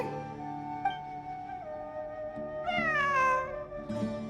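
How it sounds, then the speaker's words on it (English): A cat meows in Genshin Impact, a drawn-out rising and falling call over a soft sustained musical background, then a shorter second meow near the end. "A cat?"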